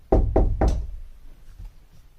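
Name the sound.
knock at a door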